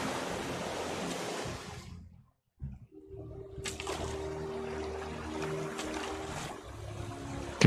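Ocean waves in the survival video game Raft wash and surge steadily for several seconds, drop to a brief silence, then return as a broad rushing swell mixed with a low tonal drone.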